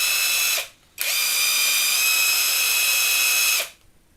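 A RUYIKA cordless impact wrench fitted with a drill adapter whirs in two loud, steady high-pitched bursts, a short one and then a longer one, with a brief pause between them.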